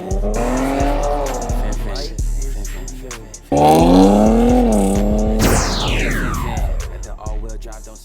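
Infiniti Q50S fitted with new downpipes, engine revving loud and close with a deep rumbling burble that swells and falls, then a sharp rising whine as it accelerates; people talk over it.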